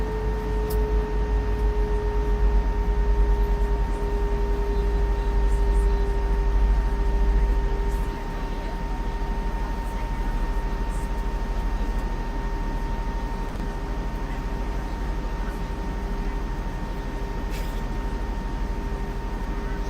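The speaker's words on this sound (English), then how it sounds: "I can listen to the Phoenix engines all day, they are incredible." Steady, continuous engine drone from a Phoenix Airbus A321 in Microsoft Flight Simulator 2024, a smooth unbroken hum with a constant whine over a low rumble that drops slightly partway through.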